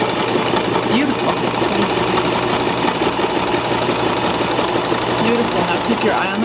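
A sewing machine stitches a zipper sack with the needle passing over a pin, making a steady, continuous mechanical whir that runs throughout beneath a person talking.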